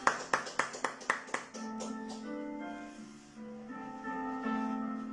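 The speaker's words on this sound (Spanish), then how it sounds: "Denle un aplauso al Señor." A church congregation claps together in a quick run of about six sharp, evenly spaced claps, then sustained keyboard notes ring on alone.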